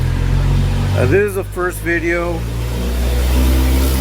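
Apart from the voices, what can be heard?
traffic, vehicle passing near backyard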